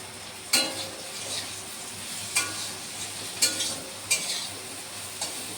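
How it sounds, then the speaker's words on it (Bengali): Bitter gourd frying in ghee gives a soft, continuous sizzle, punctuated by about five sharp spatula scrapes against the pan at irregular intervals, heard up close. "ঘি করলা ভাজা হচ্ছে।"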